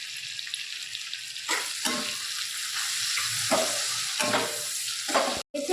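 A fish curry seasoned with turmeric and salt is stirred in a hot frying pan. Close, loud sizzling runs underneath while several distinct scraping strokes of the spoon rise above it, ending in a brief clatter.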